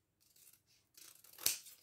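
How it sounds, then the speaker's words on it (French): Large scissors snip close by, with a few soft rustles and then one sharp, bright cut near the end, quiet overall with no voices. "si tu prenais ton grand ciseau, ça serait peut-être mieux"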